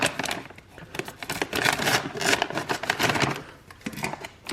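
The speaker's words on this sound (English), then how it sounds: "So I'm going to just cut the package open." Scissors cut open a plastic DiGiorno stuffed pizza bites package, giving a close series of crinkling snips and rustles that come in irregular bursts.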